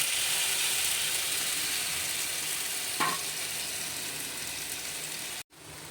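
Mustard paste water poured into a hot pan of oil for a hilsa mustard curry, giving a steady close sizzle with one brief clatter near the middle and a short cut-off near the end.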